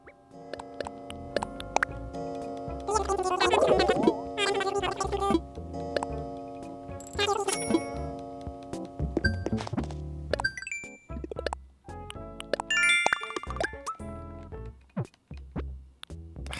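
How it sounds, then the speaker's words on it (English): The 9 PM bell chime in Animal Crossing: New Horizons rings as a run of clear tonal notes that swell and fade over soft game music, close and prominent, with no talk. "Pretty much the 9 PM bell."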